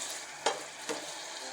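A seafood sauce for squid ink pasta with shrimp and parsley frying in a hot pan, a soft continuous sizzle marked by two brief stirring scrapes, close and moderately quiet, with no voices.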